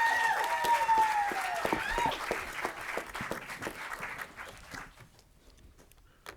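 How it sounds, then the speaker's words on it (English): An audience applauds people on stage at a public impact day event, clapping strongly at first while a sustained tone fades out, then thinning to scattered claps and dying away into near silence. "Give them a round of applause again."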